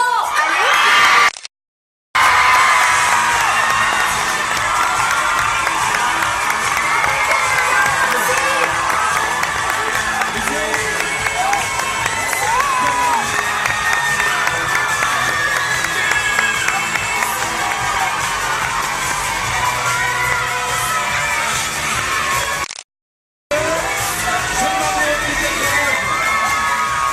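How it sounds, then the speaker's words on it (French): A young crowd at a live beatbox battle cheers, whoops and shouts loudly and steadily, with some scattered clapping, broken by two brief silent gaps. "le beatboxer qui a reçu le plus d'applaudissements est Nathan"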